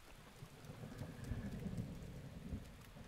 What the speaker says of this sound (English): Oh boy, it's thunderstorming.